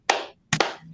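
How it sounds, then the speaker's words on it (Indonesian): A group in a training session claps in unison on command, three short sharp claps spaced apart, close and distinct with silence between. "Kalau saya bilang tepuk satu, kita tepuk satu ya."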